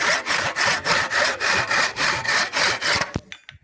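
A freshly sharpened hand saw rasps through a 5x7 piece of teak wood in a steady rhythm of about a dozen quick strokes, close and clear, ending as the piece cracks apart.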